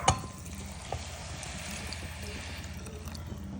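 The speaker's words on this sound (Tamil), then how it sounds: "இப்போ நம்ம தண்ணி சேர்த்துக்கலாம்." Water is poured into a pan of simple anchovy (nethili) fish curry, a steady soft trickling and filling sound at close range with a small clank at the start.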